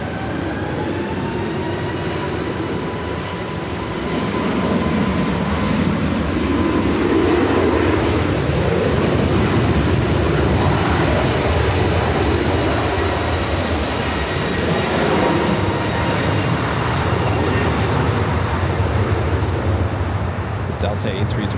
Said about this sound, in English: Delta A321neo rolling down at 24 left.